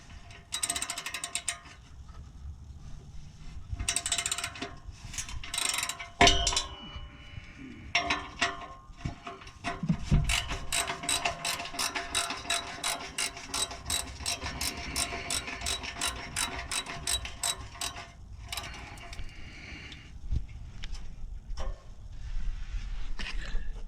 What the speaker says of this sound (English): I got PB Blast all over my ratchet, and you saw me fumbling with it as well